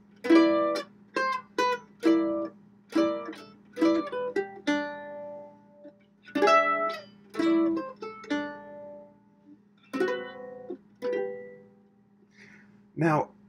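A solo mandolin plays a chord melody phrase, with crisp plucked two-note chords and single notes in a lilting rhythm, close and clear with pauses between figures and no talking.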